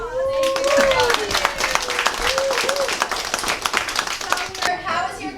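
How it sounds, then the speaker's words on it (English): An audience at a Bronx Science 2018 event applauds, with dense, sustained clapping from many hands near and far while people talk and cheer over it. "Let's give you a huge round of applause."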